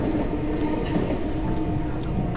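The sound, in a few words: electric train running on tracks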